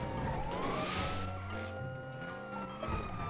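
Police car sirens wailing and sweeping in the GTA5 video game, rising and falling tones over engine roar during a car chase, with a brief impact near the end and no voices.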